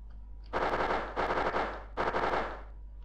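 Enemy gunfire in the SNES game Flashback, heard as three loud bursts of rapid synthetic shots with short gaps between them, standing alone over a low constant hum.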